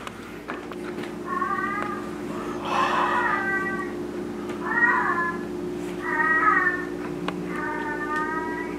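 Cat meowing repeatedly nearby, four or five drawn-out meows spaced a second or so apart over a low steady hum.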